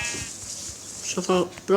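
A sheep bleats in a video game: a few short, nasal bleats in the last second, following a quieter, scratchy stretch at the start.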